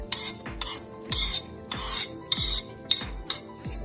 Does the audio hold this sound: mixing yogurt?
yes